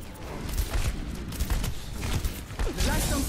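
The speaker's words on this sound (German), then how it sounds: "Der Schuss des Revolverhelden fand sein Ziel." Rapid gunfire in the video game Overwatch during a Halloween event, bursts of shots over a busy, noisy game soundscape.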